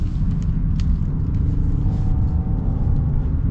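A Genesis GV70 3.5T SUV rounds a roundabout, its engine a steady low rumble heard from inside the cabin, with faint road noise and no talk.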